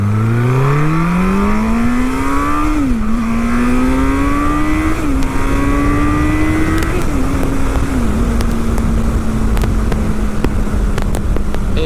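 A 1,611-mile MV Agusta 1090 Corsa motorcycle revs up and accelerates hard through several gear shifts, its engine note climbing loud and close, then holding a steady high drone as it cruises on at partial throttle.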